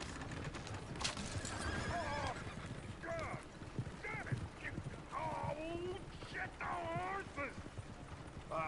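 A horse in the video game Red Dead Redemption 2 whinnies several times in close, loud bursts, with clip-clopping hooves and other game sounds between the calls.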